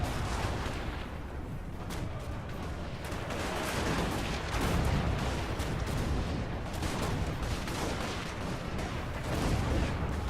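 Total War: Warhammer siege battle: dense, continuous crackle of handgunner volleys and battle din, moderately loud, with overlapping shots and no pauses.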